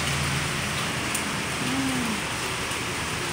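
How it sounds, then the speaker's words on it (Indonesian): Steady rain falls in an afternoon shower as a constant, even hiss with no break and no voices. "Hujan-hujan."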